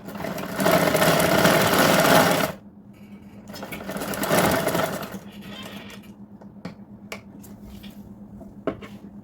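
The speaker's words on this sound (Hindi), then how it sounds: "तब इसमें हम फिटिंग सिलाई मारेंगे।" A sewing machine runs close by in two bursts of fast stitching as a fitting seam is sewn into a blouse, followed by quieter clicks and handling sounds.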